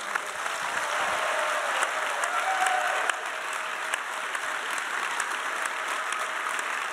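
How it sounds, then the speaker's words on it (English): Sustained applause from a large convention crowd at a Star Wars Celebration panel, dense and steady clapping that fills the whole stretch without a break. "And a round of applause, please."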